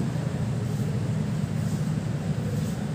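A diesel engine runs with a dirty intake, giving a steady, loud, low rumbling drone that stays even throughout, with no voices.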